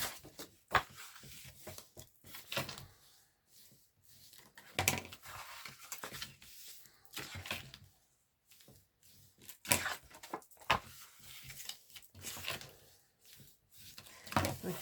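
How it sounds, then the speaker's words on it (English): Quiet, intermittent rustling and crisp scraping of paper being creased and rubbed flat, in short bursts separated by pauses. "So I'm just going to turn it over and fold and burnish it all."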